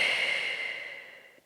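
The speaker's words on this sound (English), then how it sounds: "we're going to breathe here" A single long, deep exhale held during a side plank exercise, close and airy, fading out gradually over about a second and a half.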